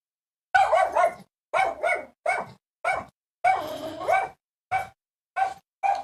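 A pet dog barks in a string of about eight sharp, close barks and yips, irregularly spaced with short silences between them, loud and alone with no talking.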